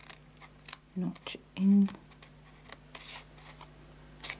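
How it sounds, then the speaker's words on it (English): Scissors cut paper for a handmade stamped gift box, a few brief close snips and scrapes with gaps between them, while someone speaks softly. "I think I need to clean off my scissors, I've got too much glue on them."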